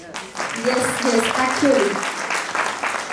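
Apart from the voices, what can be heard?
audience applause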